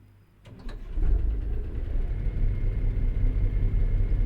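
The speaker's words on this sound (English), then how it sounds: "I'm using the Cummins N14 engine from the engine sound pack" A low, steady Cummins N14 diesel truck engine rumble in a video game rises in from near silence and settles into a continuous idle drone.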